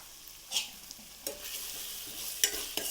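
Ginger-garlic paste hitting hot oil in a pan for Chittoor chicken curry, with soft sizzling and a few sharp spoon scrapes and stirs spaced across the moment, close up and without talk.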